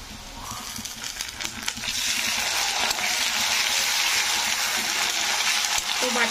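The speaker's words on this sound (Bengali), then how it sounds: "তো তারপরে আমি এতে দিয়ে দেবো আদা রসুনের বাটা 1 চামচ" Ginger garlic paste goes into hot oil with curry leaves for a mango fish curry, and the sizzle jumps to a loud, steady hiss that holds to the end.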